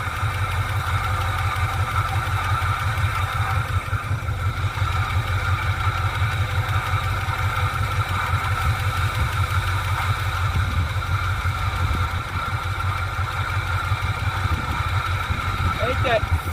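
Ford Fairlane engine running at a steady idle, a loud continuous low rumble with a faint high belt whine throughout.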